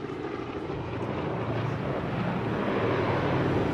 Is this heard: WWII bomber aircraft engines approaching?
yes